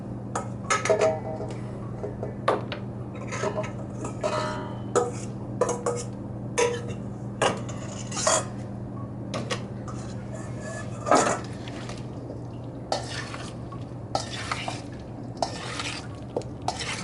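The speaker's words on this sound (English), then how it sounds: "And I add the potatoes." Potatoes being added to a bowl and stirred into potato salad, with repeated clinks and scrapes of a utensil against the bowl over a steady low hum, in an indoor kitchen.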